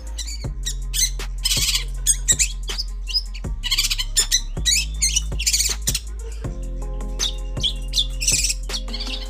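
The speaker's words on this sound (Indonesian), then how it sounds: "ada suara burung cendet ini mengeluarkan materi yaitu Armageddon" A cendet (long-tailed shrike) sings its Armageddon song material: a busy stream of sharp chirps, squeaky notes and harsh squawks, close and loud, with short pauses and a low steady hum underneath.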